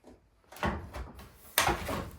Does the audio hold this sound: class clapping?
no